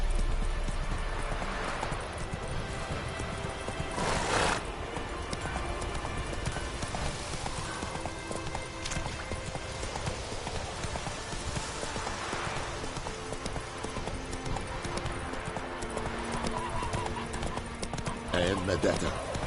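Roach, the horse in The Witcher 3, gallops in a rapid, steady clip-clop of hooves that runs throughout, under a dense game soundscape, with brief voices and a possible whinny.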